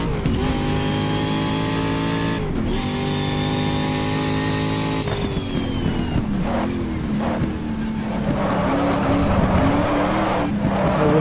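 Race car engine in the GTR2 sim racing game at Circuit Gilles Villeneuve, a loud steady harmonic whine rising through the gears with brief dips at shifts, then rougher revving with tire noise, continuous and close throughout.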